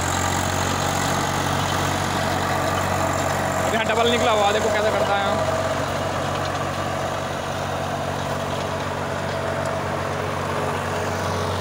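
Swaraj 733 FE 35 hp tractor running a 7 ft rotavator at 1800 RPM, a loud steady low engine drone near the listener with someone talking over it.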